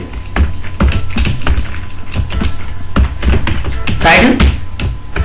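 Steady clacking keystrokes on a computer keyboard as basic HTML tags are entered, with fairly rapid irregular taps and a few heavier thunks, all running under a person talking.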